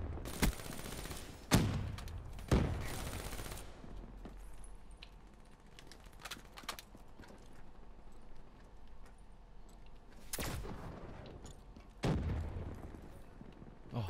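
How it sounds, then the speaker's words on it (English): A grenade blast in Black Ops 3 Arena Hardpoint, amid other bursts of game gunfire and explosions: sharp loud booms at the start, a pair of hits near the middle, then more blasts toward the end, with quieter game noise between. "Oh, it's a nade!"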